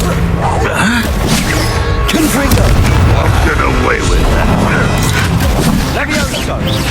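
Blasting-spell explosions from the Confringo charm in Hogwarts Legacy, a dense, loud barrage of booms and cracks amid constant combat noise, with a voice talking over the action.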